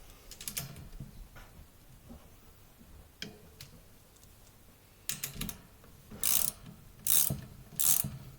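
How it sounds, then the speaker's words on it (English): Screws are tightened on a Mainstays SFC1-500B 20-inch high-velocity box fan, with close ratcheting clicks and scrapes in short bursts that grow louder and more regular toward the end. "Now we're going to go ahead and just tighten these down."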